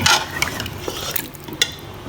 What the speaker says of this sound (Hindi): अब हम इसको मज़ीद इतना भूनेंगे कि सारा जो ऑयल है ना गोश्त से लैता हो गया।